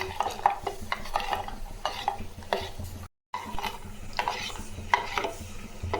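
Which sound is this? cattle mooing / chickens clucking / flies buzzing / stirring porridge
stirring porridge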